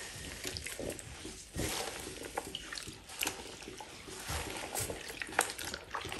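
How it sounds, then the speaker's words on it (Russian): Oxygen bubbles pop and fizz in warm bleaching water where a synthetic curtain soaks, a close, continuous crackling hiss with scattered tiny pops and no speech. "Прям слышится, как пузырьки лопаются."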